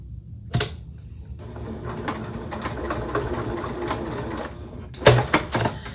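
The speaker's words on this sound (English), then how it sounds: "and sew that down. I'll do the other side as well." A sewing machine runs steadily for about four seconds, stitching down the welt of a fabric pocket, its rapid mechanical whir close and continuous, with a few sharp clunks at the start and end.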